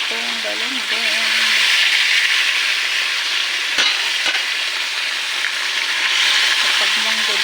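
Fried galunggong fish goes into a sizzling pot of mung bean stew, a loud continuous frying hiss with a couple of sharp pops and some stirring, while a voice talks briefly at the start and end.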